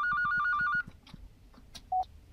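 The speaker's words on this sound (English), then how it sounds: "phone ringing." A phone rings in the game Polarvoid, a fast trilling electronic ring repeated in quick pulses for under a second, then stops, followed by a short beep and faint clicks.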